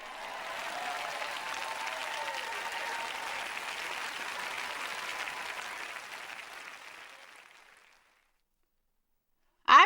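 A large audience applauding in a steady, even wash of clapping that holds for several seconds and then fades to silence, ending with a brief sharp click.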